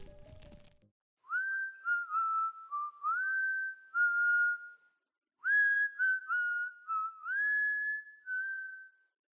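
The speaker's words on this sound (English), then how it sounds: "That's when I first heard the whistling." Someone whistles a simple repeating tune of five or six notes in the woods, heard from a distance in two clean phrases; a short rustle comes first.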